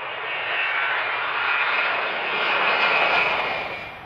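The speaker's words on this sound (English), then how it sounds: "full power engine runs, rejected takeoffs and test flying" Engines of an ex-RAF Boeing 707 jet airliner run at full power on the ground in Australia, a loud, steady, broadband roar that swells slightly and holds throughout with no talk.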